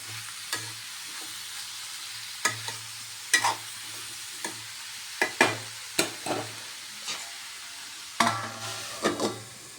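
A spoon stirs bottle gourd pieces in a pan, with a low sizzle underneath and repeated scraping, clattering strokes in an irregular rhythm, close and fairly quiet.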